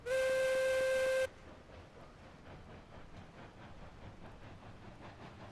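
A Shay locomotive's steam whistle in the train game Railroads Online sounds one loud, steady chime-like blast for just over a second, then gives way to a rhythmic chuffing and rumbling of the engine.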